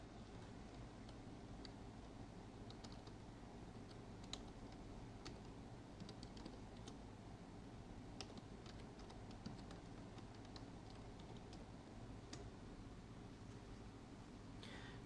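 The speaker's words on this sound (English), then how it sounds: "please type Eiffel Tower, Paris, France in the search text box" Quiet, steady clicking of keys being typed on a computer keyboard, faint and continuous throughout with no talking.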